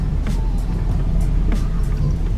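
Car driving on the road, its engine and tyre rumble steady and loud throughout, with a few faint clicks over the continuous low drone.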